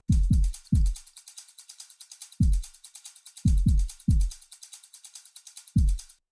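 Layered electronic drum pattern of deep booming kick drums in irregular hits, with a steady ticking hi-hat running underneath, loud and alone.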